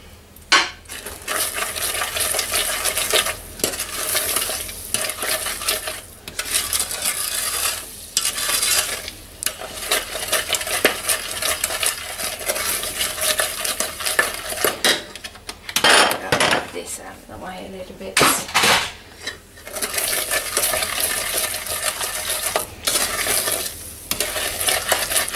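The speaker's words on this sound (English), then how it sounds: "As you can see, it is now boiling, and that's when you take it off" Sugar syrup bubbling in a pan while a utensil scrapes and stirs it steadily, with clinks against the pot, close and continuous for the whole stretch, with a couple of brief pauses.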